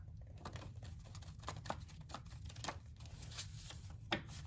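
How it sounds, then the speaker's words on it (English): A deck of playing cards being given a quick shuffle during a tarot-style card reading, a soft, close riffling patter of card edges with a few sharper snaps, heard alone over a low steady hum. "I'll just do a quick shuffle and then a split deck"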